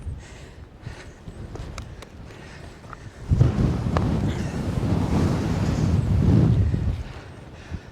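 Strong wind buffets the microphone on an exposed hilltop beside a trig point, a rough, steady roar that swells loud midway and holds for several seconds before easing, with no talking.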